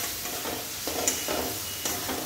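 Chicken curry masala fries with red chili powder in a pan, a soft even sizzle broken by a few scraping strokes of a spoon, fairly quiet and without talk.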